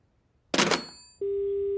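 A cartoon telephone, apparently broken, gives a steady dial tone that starts abruptly after a loud clunk of the receiver and holds as a single unbroken hum to the end.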